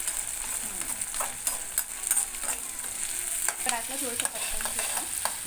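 Ingredients for kanda poha, with tomato, mustard seeds, cumin and curry leaves, fry and are stirred in a pan, giving a steady close sizzle with repeated scraping strokes throughout.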